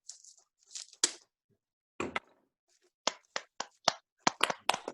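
Sparse, uneven hand claps from a small audience at a book launch on food security, a few isolated claps with gaps, then a quicker cluster near the end.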